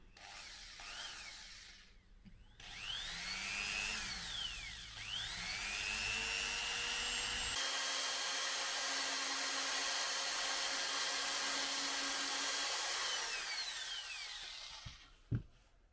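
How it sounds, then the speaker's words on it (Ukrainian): An electric drill whines at high speed while drilling a hole in a walk-behind tractor's clutch release bearing part, its pitch rising and falling as it starts, bites and spins for several seconds before cutting off with a clunk. "І починаємо свердлити."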